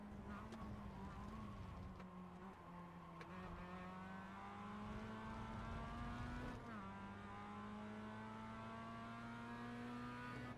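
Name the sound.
race car driving in iRacing video game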